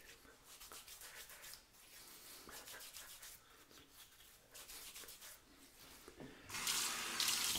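Hot water running from a bathroom sink tap during a wet shave with a safety razor, a steady trickling stream that gets louder and fuller toward the end, with no talk.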